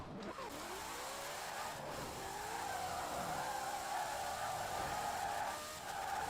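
A 1900HP drag Mustang accelerating in Forza Horizon 4, with a loud continuous engine note that rises steadily in pitch as it gains speed and a brief tyre squeal at the start.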